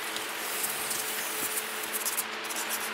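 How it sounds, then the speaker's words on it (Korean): Cloth rubbing and wiping an engine part clean with alcohol during a BMW 520d diesel timing chain repair, a steady close-up scrubbing swish that continues without pause. "역시 잘 닦으시네요."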